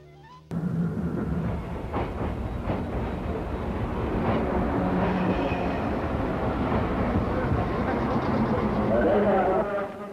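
Commuter trains in 1970s-1980s Tokyo rumble and clatter steadily for several seconds, with sharp rail clicks and squeals over a continuous roar, while a narrator's voice runs on top.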